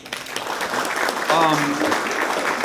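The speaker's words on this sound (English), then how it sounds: "Let's give them a round of applause" Brief applause rises at a Tampa City Council meeting in honor of the police chief's group, the clapping steady but partly covered by people talking nearby, with a whistle-like tone partway through.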